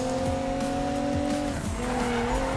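A high-end car drifts in Need For Speed 2015, its engine droning steadily under a sustained tire squeal and skid that chain together across the slide, loud and continuous.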